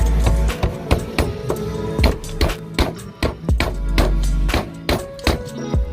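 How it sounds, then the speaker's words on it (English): Repeated sharp metallic knocks of a hammer strike a CV axle boot part at a brisk, uneven pace over a constant droning hum, loud and close. "Get a hammer, knock that down."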